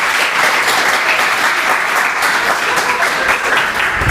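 A large audience applauds a regional education superintendent at a state drug-policy week event, steady dense clapping filling the room at full volume for the whole stretch.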